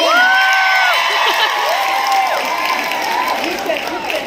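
A loud crowd cheers and shouts, with whoops and high calls rising over sustained applause-like roar throughout.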